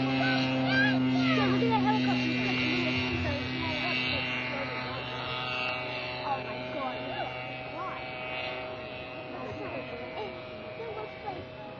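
A model biplane flies at a New Hampshire Flying Tigers club event in 1995, its small engine giving a steady, fairly distant droning whine that shifts slightly in pitch as it maneuvers overhead, with faint voices in the background.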